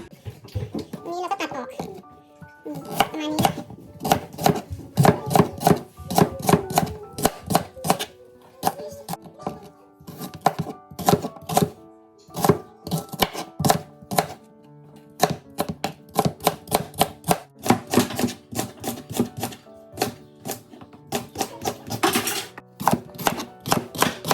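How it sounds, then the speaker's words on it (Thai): A knife chops rhubarb stalks rhythmically on a cutting board into 1-2 cm pieces, bursts of sharp taps in quick succession with brief pauses between runs. "แล้วก็นำมาหั่นประมาณ 1-2เซนติเมตรนะคะ"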